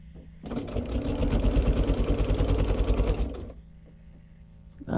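A sewing machine runs steadily, stitching binding onto a baby quilt, its loud fast rhythmic chatter lasting about three seconds before the motor stops, leaving quiet room tone.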